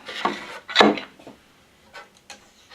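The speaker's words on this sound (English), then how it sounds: "I'm going to take off some of these clamps" Clamps being loosened and lifted off a clamped wooden guitar top, a few close wooden knocks and scraping rubs in quick succession, then fainter clicks and taps.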